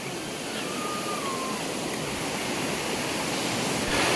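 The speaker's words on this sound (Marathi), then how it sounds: "आता हा धबधबा थोडासा कमी पडायला लागला" A small waterfall in a village stream rushes steadily and evenly, a close, constant wash of water that swells slightly at the very end.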